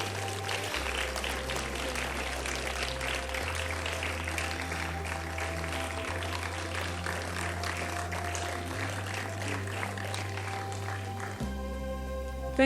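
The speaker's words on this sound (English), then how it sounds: "Please, a round of applause for the French Embassy." An audience at a film festival applauds for the French Embassy, with steady continuous clapping over a repeating low musical bass line.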